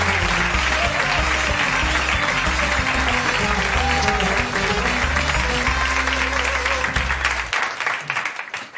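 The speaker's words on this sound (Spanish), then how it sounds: "Pido un fuerte aplauso para Nacho Vigalondo." Studio audience gives a loud, sustained round of applause for filmmaker Nacho Vigalondo on the karaoke show Parking Karaoke, with music playing underneath, fading out near the end.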